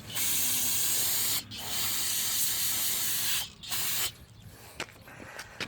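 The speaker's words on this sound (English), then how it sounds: "little bit of brake cleaner here, and then rinse it down with some WD-40" Brake cleaner hisses steadily from an aerosol can in long continuous bursts, broken by brief pauses, loud and close, then tapering to faint sputters and ticks.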